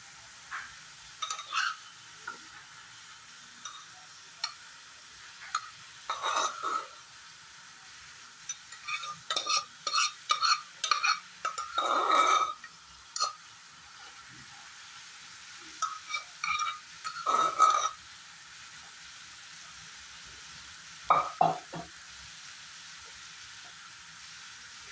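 Rice is stirred into boiled vegetables that are still a little watery for fried rice, with a spoon scraping and clinking against the pan in irregular bursts over a faint sizzle. The sound is close and quiet, with no talking.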